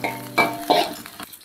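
Onions frying in a pan while being stirred, with steady sizzling and a few louder scraping strokes of the utensil against the pan, close and clear with no voices.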